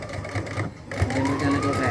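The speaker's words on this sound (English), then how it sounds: "you back stitch to create the knot, and you go to sew through." Sewing machine back stitching on a tank top garment, a close whirring stitch run that pauses briefly midway and then resumes steadily, with a voice speaking over it.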